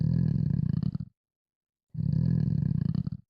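A synthesized frog sound effect for a card game: two low, throaty croaking bursts about a second each, separated by a short silence, close and clear with no talking.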